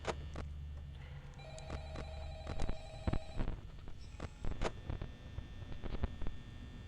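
A telephone rings repeatedly in Five Nights at Freddy's, its ringing tone sounding at moderate level over a low hum and scattered clicks from the game.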